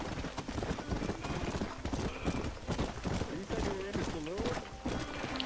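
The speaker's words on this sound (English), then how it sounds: "There's a guy on a horse." Hooves clip-clop from a horse in the video game Red Dead Redemption Online, a rhythmic trotting patter with a whinny, heard beneath frantic voices shouting over each other.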